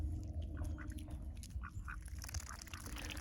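An eleven-year-old white duck quacking in a yard near a water source, several short nasal quacks spaced irregularly over a low background rumble, fairly close with no talk.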